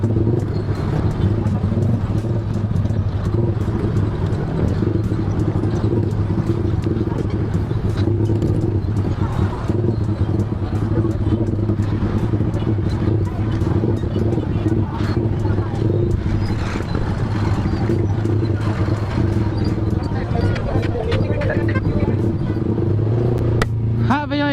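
Busy street traffic in Rosario, with cars and motorcycles running steadily and loudly close by, engines droning under a voice talking throughout.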